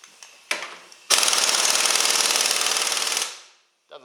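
A compact Urceri impact wrench set to level 2 gives a couple of brief blips, then a loud, steady run of fast rattling hammer blows lasting about two seconds before winding down, with no voices.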